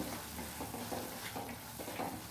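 Sambar powder for khara bath frying and being stirred in a pan gives a soft, steady sizzle, with a few scraping stirs close by and no voices.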